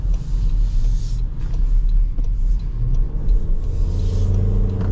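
A 2024 Toyota Grand Highlander driving and accelerating, heard from inside as a loud, steady low engine and road rumble that rises slightly as it pulls.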